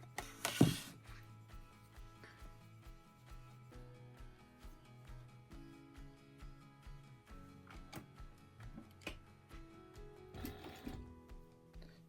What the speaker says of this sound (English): I'm stitching down at this side at 1/8 of an inch.